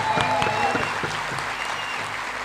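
Seminar audience applauding, a dense, steady wash of clapping that holds at even loudness throughout, with a few sharper claps standing out near the start.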